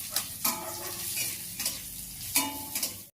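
Onion hits garlic frying in oil in a pan, a bright crackling sizzle with several quick stirring scrapes and knocks, which ends abruptly.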